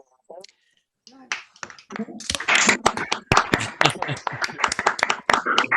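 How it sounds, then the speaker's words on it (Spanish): Participants in an online academic talk clap through open microphones after the speaker, starting sparse and building into scattered, uneven claps mixed with speech and cheering. "para al menos darle un aplauso entre todos a Horacio, que lo tiene más que merecido."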